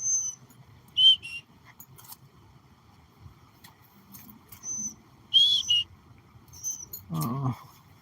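Baby bird hidden in a bush in a Florida park, repeating thin high squeaky peeps in short bursts and single calls, close by, with a brief low rumble near the end.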